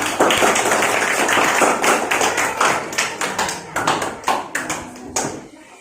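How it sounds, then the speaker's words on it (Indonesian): Schoolchildren in a classroom clap for a classmate: a dense, close burst of many hands that thins into slower, scattered claps before stopping. "Tepuk tangan buat Rizkyani"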